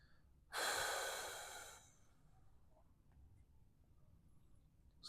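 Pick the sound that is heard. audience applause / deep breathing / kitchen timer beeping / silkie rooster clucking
deep breathing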